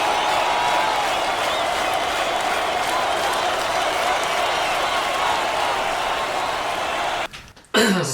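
An arena audience at a live performance sustains a broad, even wall of clapping and cheers that cuts off abruptly near the end.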